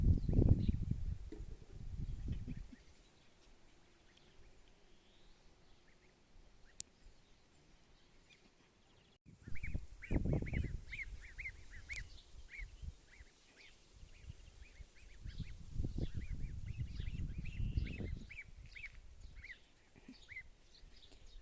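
Geese honk and cackle in bursts close by, with quieter stretches between and some chirping in the background.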